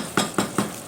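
Potatoes sizzle and crackle in a hot pan, with three soft scraping stirs at a steady pace, close by.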